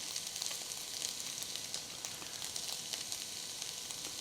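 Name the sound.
cauliflower stir fry frying on high flame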